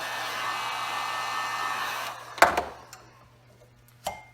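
A heat gun blows a steady, fairly loud rushing hiss for about two seconds as it warms sticky residue on a car windshield, then cuts off, followed by a few sharp taps and clicks and one more knock near the end.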